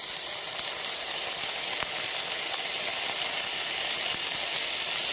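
Butter and soy sauce sizzling in a hot pan over rice and egg, a loud, continuous hiss with faint scattered crackles and occasional clicks, no voice.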